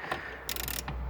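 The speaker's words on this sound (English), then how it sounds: "I'm gonna use my little ratchet" A small ratchet turning a bolt on a Peugeot 307 CC during an air conditioning repair, a brief close burst of quick clicking pawl ratchets after a faint tap, quiet and alone.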